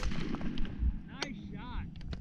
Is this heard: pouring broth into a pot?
no